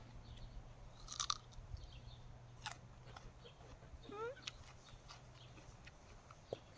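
Crisp, close bites and chewing of a crunchy freshly picked pear, a few sharp crunches followed by quieter munching against a low steady hum, a voice speaking briefly.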